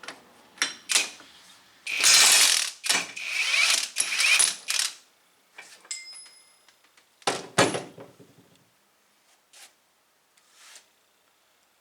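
A wrench ratchets loose the hydraulic cylinder cap on a motorcycle lift table during a seal repair, giving several bursts of clicking metal and clanks that fade into quieter taps near the end.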